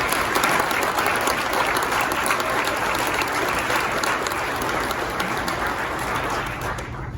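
Steady, dense audience applause fills an indoor sheriff's department promotion and awards ceremony, holding at an even loudness throughout and easing slightly only at the very end.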